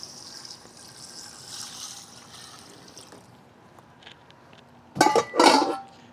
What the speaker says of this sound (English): we're gonna add some water to it,